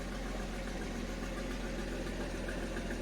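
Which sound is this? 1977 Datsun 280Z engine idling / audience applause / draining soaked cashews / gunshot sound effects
1977 Datsun 280Z engine idling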